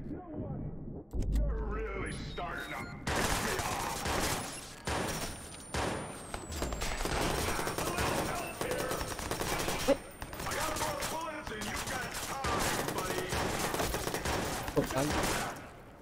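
Gunfire in the Watch Dogs video game: dense bursts of automatic fire and single shots, loud and nearly continuous, with a player talking over the shooting.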